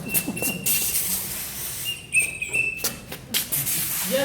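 A hoary marmot gives thin, high, sharp whistles in a mountain setting, several short calls over a constant breezy hiss.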